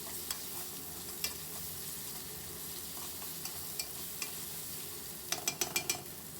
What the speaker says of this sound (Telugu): ఇప్పుడు ఇందులో ఒక స్పూను అల్లం వెల్లుల్లిపాయ పేస్ట్ వేసి ఒక్క నిమిషం ఇలా ఫ్రై చేసుకుందాము